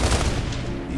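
Sustained bursts of gunfire in the Xbox 360 shooter Gears of War 2, a dense, loud, continuous volley filling the whole moment with no talk.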